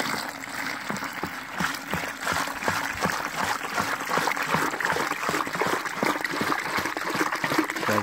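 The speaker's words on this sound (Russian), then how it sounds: "Наливаем 10 литров воды." Ten litres of water are poured into a bucket holding iron sulfate powder for a garden fungicide spray, a loud continuous gushing and splashing that runs steadily throughout, with no talking.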